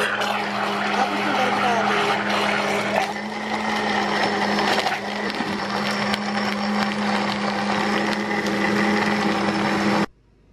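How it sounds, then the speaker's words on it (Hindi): Mixer grinder blending fresh figs with ice for a milkshake, a loud steady whirring drone running close and unbroken for about ten seconds before it cuts off abruptly. "फिर बर्फ़ डाल के ग्राइंडर करते हैं"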